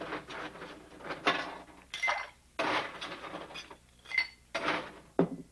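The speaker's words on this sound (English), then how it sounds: "few ice cubes" Ice cubes clink and rattle into a room-temperature cocktail glass while a rum drink is prepared, several bright knocks and tinkles in uneven bursts, close and clear with no talk.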